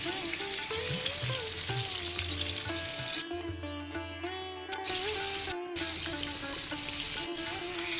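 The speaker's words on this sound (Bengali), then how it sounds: "তেল গরম হয়ে গেলে মাছগুলোকে ভেজে নেব। আমি একবারে 3টে করে মাছ ভাজছি।" Three koi fish fry in hot oil in a kadai, giving a steady, loud sizzle and crackle, with tonal music playing underneath and brief dips in the hiss.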